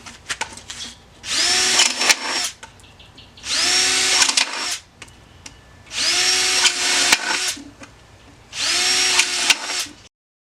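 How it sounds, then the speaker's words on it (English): A power drill turns a 13mm spade bit to bore holes through a worm compost tube, giving four loud, steady whirring bursts of about a second and a half each, with short pauses between them. "I'm going to use a 13mm spade drill bit, which should be ample enough width for the worms to get through."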